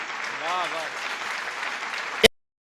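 Applause from an audience at a Hindi poetry recital, a steady wash of clapping for about two seconds with a brief voice mixed in, ending in a sharp click and then silence.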